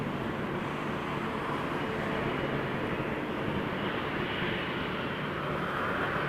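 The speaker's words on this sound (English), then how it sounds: "This is Air Canada 722 though, so it's an Air Canada flight headed to LaGuardia on an Airbus A319" An Air Canada Airbus A319 airliner takes off at Toronto Pearson, a broad, steady jet roar at moderate distance with a rising, shifting tone as it accelerates.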